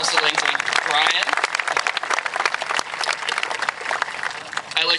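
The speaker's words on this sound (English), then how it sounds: "I think we also owe our guidance department a round of applause" An audience at a graduation applauds in a dense, sustained burst of clapping, loud throughout, with voices calling out among the crowd.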